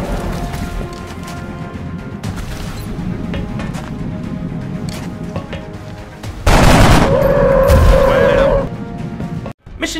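Automatic weapon fire from XCOM: Enemy Unknown, a steady dense crackle of gunshots throughout, swelling into a louder burst with a sustained whine near the end, under some speech.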